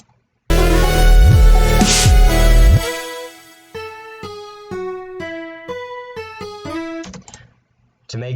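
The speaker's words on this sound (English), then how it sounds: "To make that sound with the guitars, I put a Fruity Chorus, which is a stock plugin right here, onto the DSK Dynamic guitars" Chorus-treated DSK Dynamic guitar notes from an FL Studio remix, a dense swirling chord swell followed by a clear sequence of plucked, shimmering notes in an uneven melodic rhythm, loud and close with no talking.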